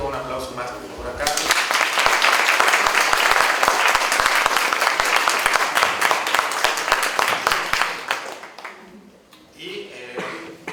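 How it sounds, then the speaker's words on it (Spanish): Strong applause fills a university Science Week ceremony in Hidalgo, Mexico, swelling quickly after a brief voice and fading out toward the end as speech returns. "damos pie a darle un reconocimiento, un aplauso más por acá"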